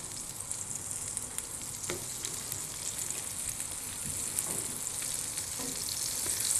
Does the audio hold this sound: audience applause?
no